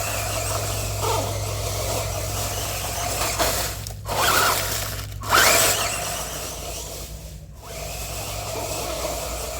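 Radio-controlled Dodge Charger with front spike wheels running on the ground, its small motor whining continuously with scrubbing squeals as a side plate rubs the tire, surging louder around a few moments.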